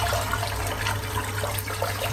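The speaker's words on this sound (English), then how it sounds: "Rinse the brush out." Water runs steadily from a sink tap as a shaving brush is rinsed, a close, even rushing and splashing that keeps going without a break.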